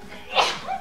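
A single quick sneeze, short and fairly faint, over a quiet background during a game broadcast.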